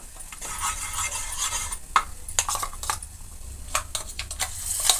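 A spatula stirs chili powder in hot oil for a drumstick (moringa) palya, giving steady scraping and clinking against the pan over a low sizzle, with sharper metallic knocks throughout.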